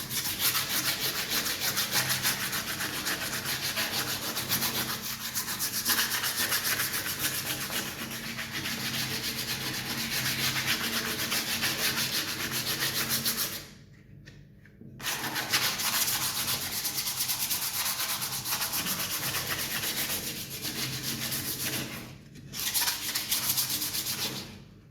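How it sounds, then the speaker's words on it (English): Hand sanding of burned wood from a kitchen shoe rack with 80 grit sandpaper: steady, close scratchy rubbing strokes that run continuously for most of the span, broken by two short pauses. "I'll take 80 grit sandpaper. Okay, and just sand it with my hand."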